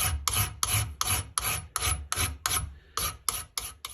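Metal file rasping along the edge of an old small hatchet to add more bevel, about a dozen evenly paced strokes, each a gritty scrape close up, with brief pauses between them and no talking.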